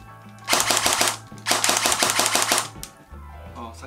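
Two rapid bursts of a Well R4 MP7 electric airsoft gun, fast mechanical rattling shots in quick succession, close and crisp with brief pauses between.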